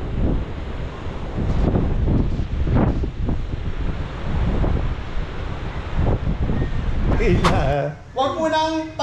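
Strong typhoon wind blasts across a beach with surf, roaring in loud gusts that buffet the microphone, and a voice cuts in briefly near the end.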